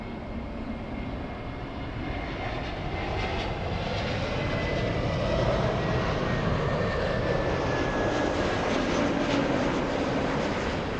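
A jet airliner arriving at Los Angeles International Airport roars loudly and steadily for the whole stretch, with a broad rumbling engine noise and a slowly shifting whine as it passes.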